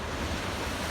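Steady surf washes and roars in the distance as waves break on offshore shoals in winter in Nova Scotia, a continuous broadband rush with some wind noise and no voices.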